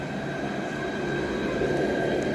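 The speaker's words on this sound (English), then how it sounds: "There's the tram going down to the station." A tram in Dijon, France rolls past heading toward the station, a steady loud rumble of wheels on rails with a faint metallic whine throughout.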